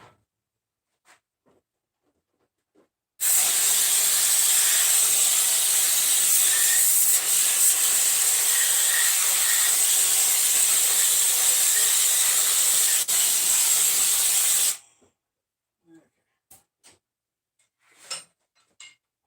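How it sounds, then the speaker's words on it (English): Water running steadily into a bucket during cleaning, a loud continuous hissing rush lasting about eleven seconds, with faint clicks and knocks before and after. "Filling that bucket up"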